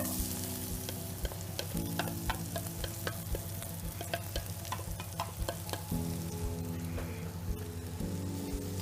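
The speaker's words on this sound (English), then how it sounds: "you'll hear a big sizzle when all of it goes in" Onions sizzle steadily in a hot pan, a dense crackling hiss with occasional stirring clinks, close and fairly quiet, no voices.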